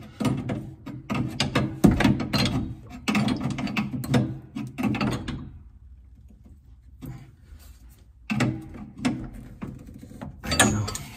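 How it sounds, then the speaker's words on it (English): Metal spanner working on a plumbing compression fitting, with irregular close ratcheting and scraping clicks in bursts, a quiet pause midway, then more short metallic turns. "get a spanner on"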